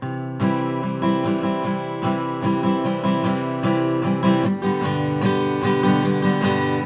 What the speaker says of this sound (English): one of the most basic strumming patterns that you use sounds like this.